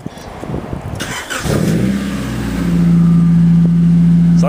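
A Honda CRX with a short exhaust that ends just past the engine cranks briefly, then catches and fires up. It settles into a loud, steady idle close by, with the level building as it runs.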